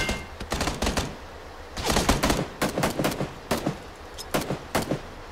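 Gunfire in the battle royale game PUBG cracks out in sharp, rapid bursts: several quick volleys of shots separated by brief pauses, loud and close, with no speech.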